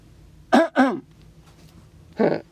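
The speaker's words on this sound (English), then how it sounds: "I gotta clear my throat." A person clears their throat twice in quick succession, close up, then once more after a short pause.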